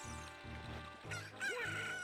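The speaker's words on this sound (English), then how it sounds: "We need a chicken to wake up the Mario bootleg." A cucco crows in The Legend of Zelda: Ocarina of Time, a loud, synthesized cock-a-doodle-doo over game music with a steady rhythmic bass, repeating calls filling the short stretch with no talking.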